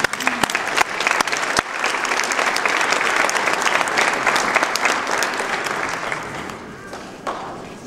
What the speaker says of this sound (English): Can we get a big applause for them?